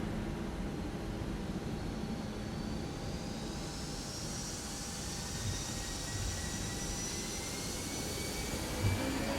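ToLiss A321 jet engines spooling at takeoff thrust in a flight simulator, a loud, steady roar with rising whine tones, continuous and near, no talk.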